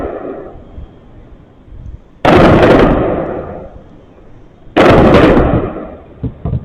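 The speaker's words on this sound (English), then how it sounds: "Those are the bombs at Fordo" Bombs exploding at Fordo, heard as two heavy booming blasts a few seconds apart, each bursting loudly and then rumbling away, with quieter pauses between them.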